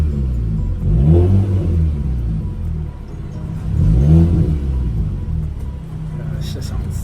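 An Audi A3 fitted with a 2.5-inch straight pipe exhaust revs twice in deep, loud rumbling bursts that settle back to a steady idle between them, with people talking over it.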